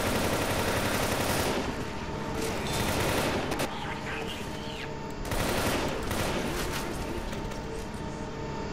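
Dense, loud gunfire fills Left 4 Dead 2 gameplay in a Crash Course match, with overlapping bursts of automatic shots rolling on continuously and occasional voices mixed underneath.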